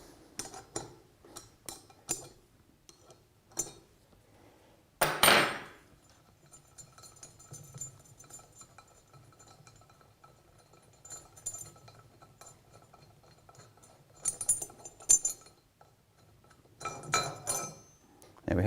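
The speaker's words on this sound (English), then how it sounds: "Now we're ready to remove the delivery manifold to get at the balls and the" Metal parts of a one-nut pump clinking as its delivery manifold is taken off during servicing: scattered close taps and clinks, a louder clatter early on, and brief jangles later over a low hum, with no speech heard.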